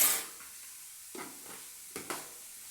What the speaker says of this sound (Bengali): এই চিনির সাথে এটাকে ভালো করে নাড়িয়ে নিতে হবে